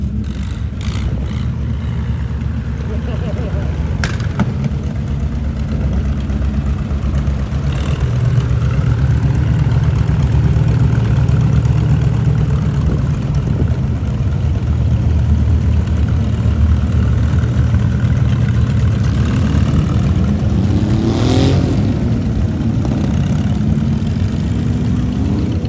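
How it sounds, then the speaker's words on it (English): Old John Deere and International tractors rolling past in a veterans' parade, engines rumbling steadily and loudly at close range for the whole stretch, with no talk over them. "Colton, look, that's an old school John Deere right there."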